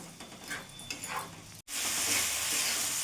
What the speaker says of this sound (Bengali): মশলাটা সব উপকরণ ভালো করে একটু কষিয়ে নেবো